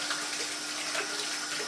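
Water poured into a pot while cooking a savoury egg dish with chicken stock, a steady close splashing stream that runs without a break and stands alone with no talk.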